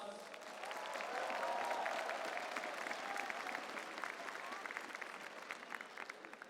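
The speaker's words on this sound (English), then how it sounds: "Let's give him a round of applause." A crowd at the ESL One Manila 2016 Dota 2 esports event claps steadily for several seconds, a dense wash of applause that swells early and then gradually thins out.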